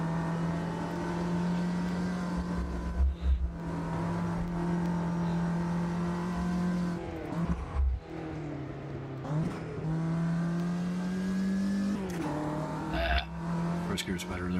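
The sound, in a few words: racing car engine revving in the video game One World Racing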